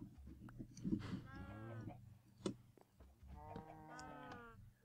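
Two drawn-out cow moos from Minecraft Tekkit Lite cattle, one after another at moderate distance, with a quiet voice speaking beneath.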